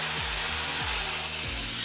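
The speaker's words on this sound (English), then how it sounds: "I have my drill going. I have it set. This is the speed I have it set at." A power drill runs at a steady set speed, well below its 1,500 RPM maximum, while restoring an Alusil engine cylinder on a Mercedes/AMG. It gives a loud, constant whine close up, with a faint repeating rub.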